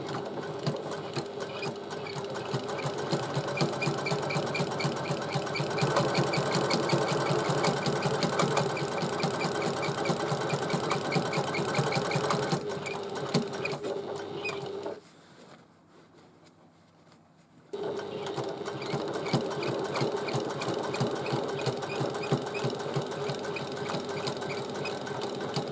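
A sewing machine runs steadily up close, stitching the bottom of a bag closed with a 1/8 inch seam, pausing briefly once before resuming its rapid, even whir.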